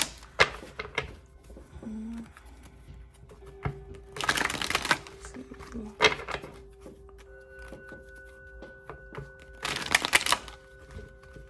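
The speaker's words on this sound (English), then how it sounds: "We're gonna shuffle this about 5 times." Two bursts of a deck of tarot cards being riffle-shuffled, crisp and close, separated by quieter taps and soft handling noises.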